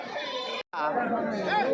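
Goats and bucks bleat at the weekly Kadiri livestock market, wavering calls rising over a constant crowd of people talking and bargaining nearby.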